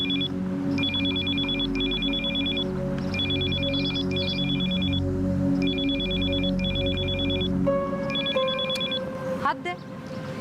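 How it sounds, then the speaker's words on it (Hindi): A telephone rings again and again in regular paired bursts and goes unanswered, with steady background sound throughout and a shift in the tone near the end. "पूरी बेल गई लेकिन फोन नहीं उठाया मेरा"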